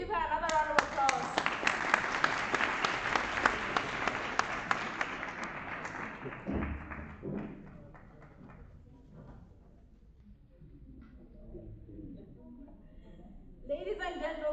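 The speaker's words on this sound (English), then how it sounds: "Please give her another round of applause" Clapping and applause from an audience at a school award ceremony, a dense burst of many hands filling the first several seconds, then thinning into scattered claps and room noise before a brief rise again at the end.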